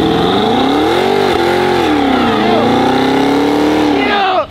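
A Cadillac CT5-V Blackwing engine roars loud and close during a burnout, held at high revs with rising and falling pitch swells, then cutting off abruptly at the end.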